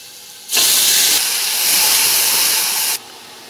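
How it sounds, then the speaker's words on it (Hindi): Chopped tomatoes hit browned onions in a hot pan for a Beef Pulao, setting off a sudden loud sizzling hiss that holds for about two and a half seconds, then cuts off sharply. "ये 2 टमाटर मैंने चॉप कर लिए थे, अब मैं ये शामिल कर रही हूँ इसमें"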